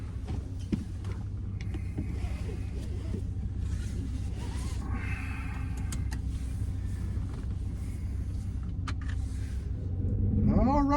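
A newly bought pickup truck is underway, its engine and road rumble droning steadily from inside the cab, with faint interior rattles and a swell in loudness near the end.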